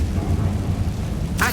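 A fiery Incendio spell cast in the Hogwarts Legacy video game: a dense, loud roaring rumble held throughout, ending in a brighter crackling burst.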